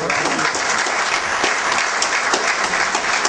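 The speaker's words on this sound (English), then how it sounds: "A big round of applause for Mr. Raman." Dense, loud applause from an audience at a corporate report awards ceremony, continuous and even across the whole stretch.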